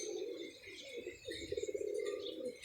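Young pigeons cooing nearby, soft repeated throaty coos forming a low warbling drone with a few brief chirps and rustles around them.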